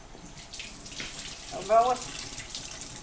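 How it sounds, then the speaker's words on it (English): Running tap water splashes over a peeled potato as it is rinsed, a steady close hiss of flowing water with a brief louder surge of splashing partway through. "Peel the potato. Rinse it out."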